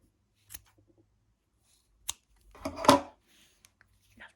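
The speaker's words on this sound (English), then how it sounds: "have with the scissors and cut your tassel at the bottom" A few sharp snips of scissors cutting a yarn tassel, isolated clicks spaced apart with one longer cutting sound in the middle, close and quiet.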